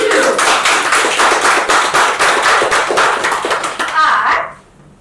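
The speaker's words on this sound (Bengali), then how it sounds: "সাথে সাথে আপনাদের মধ্যে থেকে কেউ একজন গিয়ে উপহারটা নিয়ে নিন। হাততালি প্রত্যেকে।" An audience at a Bengali couples' game show claps energetically in a loud, fast, rhythmic burst for about four seconds before stopping abruptly.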